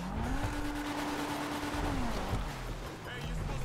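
A car drifting in GTA Online, its engine note holding steady and then dropping while tires squeal and skid under it. The sound is continuous and moderately loud, with faint voice in the background.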